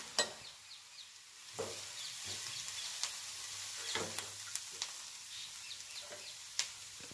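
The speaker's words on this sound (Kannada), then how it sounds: "ಅದನ್ನು ಸ್ವಲ್ಪ ಹೊತ್ತು ಫ್ರೈ ಮಾಡ್ಕೊಳ್ಳಿ" Bitter gourd fries in a pan with red chili powder and turmeric, a steady close sizzle broken by sharp scrapes and clinks of stirring every second or so.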